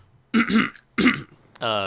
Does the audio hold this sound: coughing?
yes